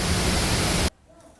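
Roaring waterfall on a Korean park trekking trail, heard up close as a dense, steady rush of falling water that cuts off abruptly, leaving faint quiet ambience.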